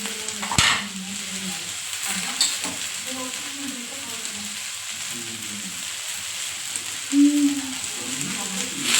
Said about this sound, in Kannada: ಹಾಗಾಗಿ ಸ್ವಲ್ಪ ನೀರನ್ನ ಹಾಕ್ಕೊತಾ ಇದ್ದೀನಿ